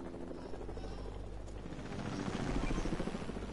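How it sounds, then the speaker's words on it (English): A helicopter in a squad-based online shooter game chops steadily with a rapid rotor thump that grows louder toward the end, heard alone without talking. "get me in your helicopter"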